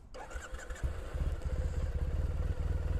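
A Triumph Thruxton motorcycle engine, already warm, cranks on the starter button and catches, then settles into a steady, throbbing idle close by.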